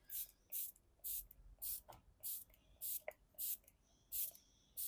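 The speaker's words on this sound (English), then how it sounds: "The mist on this spray is so gentle, and it covers your face with a very fine mist." Soft, quick bursts of facial setting spray mist repeat in a steady rhythm, around nine short hissing puffs close up with quiet pauses between.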